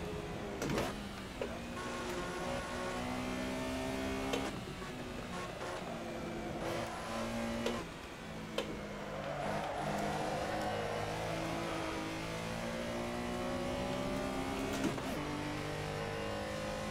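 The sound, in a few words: race car engine revving at Silverstone, from a racing video game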